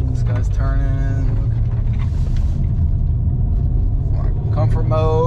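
An MK8 Golf R / 8Y S3 with a DBV2 4-inch downpipe making a U-turn on the road gives a steady, loud low exhaust rumble that runs throughout, with someone talking over it.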